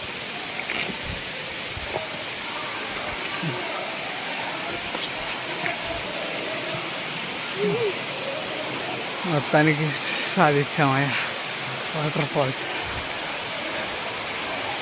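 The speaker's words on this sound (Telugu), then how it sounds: "వాటర్ ఫాల్స్కి వచ్చేసాం." Penchalakona waterfall pouring down with a steady, broad rushing roar that fills the whole span, while voices talk over it toward the end.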